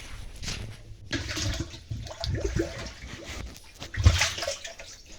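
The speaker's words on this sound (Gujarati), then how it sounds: "હાલો તો આપણે પાણી નાખી દઈએ" Water poured out in sloshing, gurgling bursts with short pauses between them, fairly close, with no voices.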